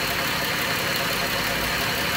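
A 3.6 V6 Pentastar engine runs steadily in a close, loud, continuous mechanical drone with a faint ticking rattle throughout and no breaks.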